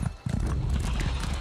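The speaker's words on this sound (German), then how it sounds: "Pferd." Rapid clip-clopping horse hooves from the video game Elder Scrolls Online trot in a steady rhythm, close and fairly loud, with no talking over them.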